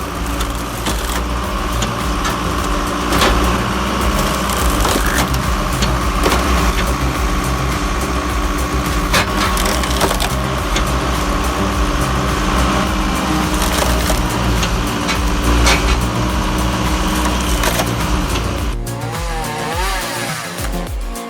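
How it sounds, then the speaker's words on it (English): Big log-splitting machine shattering a 47-inch log into 8-inch firewood chunks in deep snow, a loud continuous engine roar with cracking, splintering wood running steadily throughout. "this beast shatters a 47-inch log into neat 8-inch firewood chunks in seconds"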